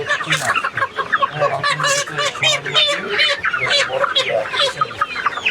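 Several chickens at a market stall cluck and squawk continuously at close range, a busy overlapping flock with a voice or two mixed in.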